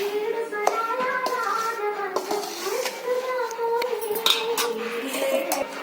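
A spoon scrapes and clinks against a metal pot while sugar and cardamom powder are stirred into a mixture, with irregular close knocks and taps under a voice talking in the background.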